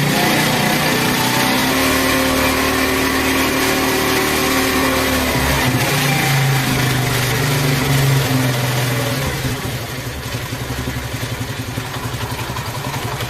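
A Honda 70 motorcycle engine idles steadily and loud while its mixture screw is adjusted, the tone dropping and the running turning rougher and more uneven partway through.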